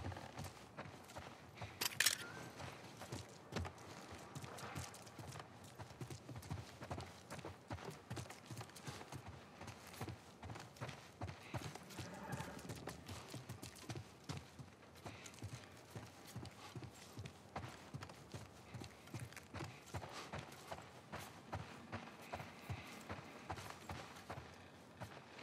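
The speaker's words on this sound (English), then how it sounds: "Let's get back to the horses." Horses' hooves clip-clop steadily in The Last of Us Part I, a continuous run of rhythmic hoof strikes on hard ground at walking pace, close and even, with light ambient noise beneath.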